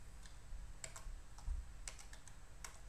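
Quiet, irregular clicks of typing on a computer keyboard with an American layout, the keystrokes coming one at a time with short pauses and no voices.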